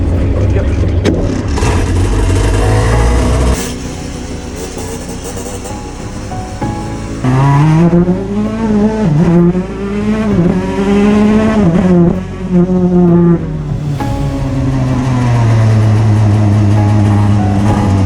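A rally car engine revs hard and loud, its pitch climbing and dropping through gear changes as the car drives, with steady road roar and no voices.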